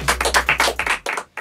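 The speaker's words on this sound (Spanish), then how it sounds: "Un fuerte aplauso para ellos, por favor." Applause for a band at a live music session, a few loud, close, separate hand claps in an uneven rhythm with short gaps, ending after a second and a half.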